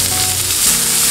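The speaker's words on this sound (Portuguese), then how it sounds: "vou refogar a cebola" Onion sautéing in a pan over the flavorful chicken drippings for a chicken stroganoff, giving a steady, loud, close sizzle and fry that runs throughout with no talk.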